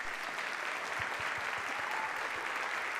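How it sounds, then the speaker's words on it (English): Audience applause fills a school auditorium at a high school winter choral concert, a steady dense wash of many hands clapping at once, loud and continuous throughout with no voices standing out. "So please give a huge round of applause to our amazing accompanist, Miss Marie Anderson."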